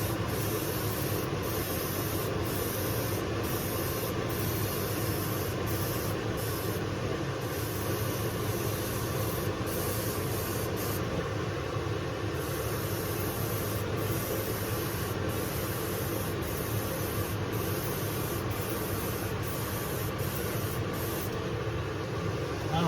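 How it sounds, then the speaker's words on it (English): Airbrush spraying acrylic paint, fed by a Senenair GTS-06 bench top compressor at about 17 to 19 psi, a continuous close, even hiss with faint rhythmic ticking from the compressor underneath. "That's spraying much better."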